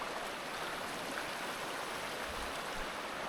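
Steady broadband rush of creek water flowing at a trail crossing, continuous and fairly close, with no voices.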